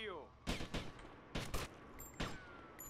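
Gunfire in the Grand Theft Auto: Vice City video game, a rapid cluster of sharp shots in several short bursts, fairly quiet and close in the game mix.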